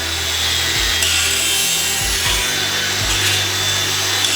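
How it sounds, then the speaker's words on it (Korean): Abrasive grinding on a fabricated steel H-beam during structural reinforcement work for a building's ground-floor remodel, a loud steady rasping drone with a few brief pitch dips as the tool shifts, continuous with no talk. "제작된 빔은 연마 작업을 진행해주고"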